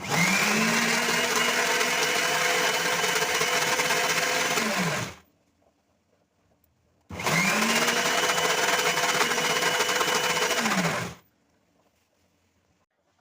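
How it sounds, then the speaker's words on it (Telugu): Two long, loud bursts of a mixer grinder whirring steadily as it grinds rice to a fine paste, each about five seconds, separated by a short silence and followed by quiet, with no voices. "మెత్తగా పట్టేసుకోవాలండి మిక్సీ."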